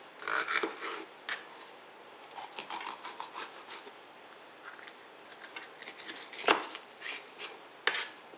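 A knife chops peppers on a cutting board in irregular close taps and short runs of quick cuts, with quieter scraping and handling between strokes.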